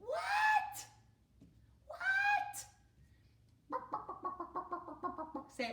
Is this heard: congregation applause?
no